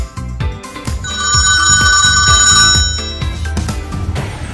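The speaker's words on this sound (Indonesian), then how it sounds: "telepon ibunya pun berdering dan si Charlie langsung menutup teleponnya." A telephone rings in a 2010 film thriller, a bright repeating electronic ring tone sounding several times over a low music score.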